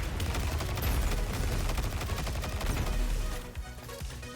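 Dense, continuous gunfire in a video game, rapid loud shots firing at fireballs in a boss fight, steady throughout before easing off near the end.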